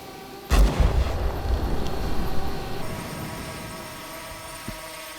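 A single heavy mortar shot booms at close range during wartime firing in Ukraine, its deep blast rolling and rumbling away for a couple of seconds before fading into quiet.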